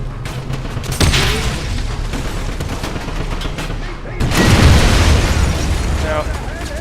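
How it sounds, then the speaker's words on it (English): A grenade blast in the World War shooter Wolfenstein booms loud and close, its roar swelling and then lingering beneath scattered gunfire and a shouting voice. "Grenade!"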